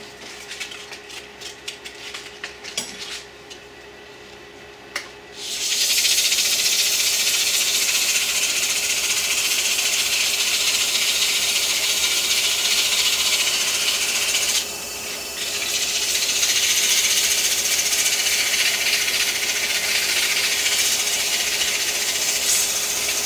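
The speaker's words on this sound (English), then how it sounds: "I'm going to sand it up to 400." Sandpaper worked up to 400 grit against a turned hybrid resin-and-wood ballpoint pen blank spinning on a lathe, a steady loud hiss of rubbing that runs continuously after a quieter start, with one brief dip midway.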